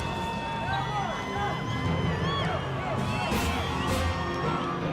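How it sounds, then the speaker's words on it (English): Crowd cheering at the South African national saddle horse championship, a steady indoor din of voices with scattered whoops and shouts rising and falling, under a commentator's voice. "The crowd is really starting to get heated up, cheering on their favorites."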